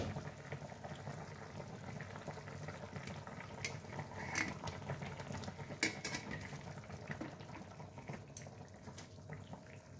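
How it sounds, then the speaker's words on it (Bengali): Fish curry with radish and eggplant simmers in a pan, a quiet, continuous bubbling and burbling with small pops close by, low in level and free of talk. "বাকিটা এবার সেদ্ধ হবে আস্তে আস্তে"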